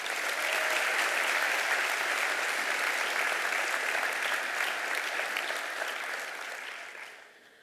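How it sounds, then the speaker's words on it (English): A crowd at a graduation ceremony applauds the graduating seniors, dense even clapping from a large audience that holds steady, then fades out toward the end. "Please give them a round of applause."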